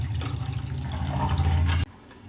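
Water pours steadily into sugar in a pan for gulab jamun syrup, a close, full rushing flow that stops abruptly near the end, no talking.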